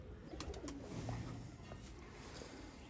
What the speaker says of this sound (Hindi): ये कबूतर है माशाल्लाह